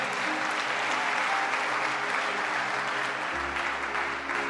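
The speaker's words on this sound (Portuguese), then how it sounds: "pode aplaudir o Senhor mesmo, querido" A church congregation applauds steadily and loudly throughout, a broad even wash of clapping with no break, and a low hum comes in near the end.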